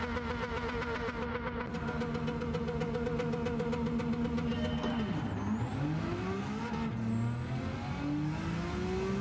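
In Gran Turismo 7 a car launches off the line and accelerates hard, its buzzing engine note rising in pitch, dropping sharply at a gear change, then climbing again through the gears, loud and steady with no talk.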